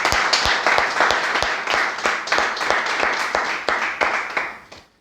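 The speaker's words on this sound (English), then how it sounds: "A big round of applause for Mr. Farhan, please." An audience applauds a student at an IELTS preparation institute in Lahore, with dense, sustained clapping and sharp individual claps standing out, holding steady before fading out at the end.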